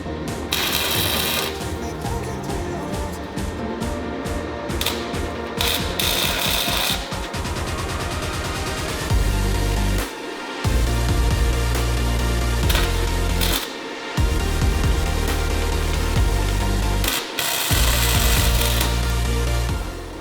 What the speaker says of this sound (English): We're gonna put the bolt on just like this and weld in